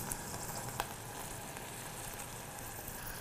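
Soft steady sizzling comes from a tortilla heating on a grill pan over a lit stove, a faint continuous hiss with one or two small ticks and clicks, with no talking.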